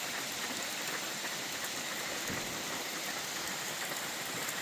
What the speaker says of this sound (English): Because sometimes the rain blows in sideways, so the chairs still get wet.